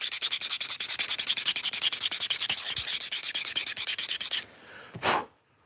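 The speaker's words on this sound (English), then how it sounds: "A little bitty bit of sanding." Rapid, steady back-and-forth sanding strokes on small wooden parts for a miniature Japanese shoji wall, close and loud for several seconds, then stopping, followed by a short soft scrape.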